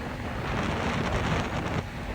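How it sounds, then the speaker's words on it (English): Strong, steady wind of 30 knots gusting to 38 roars and buffets close by on a sailboat at sea, a dense broadband rush with no voices. "The wind has picked up to 30 knots now, even gusting up to 38"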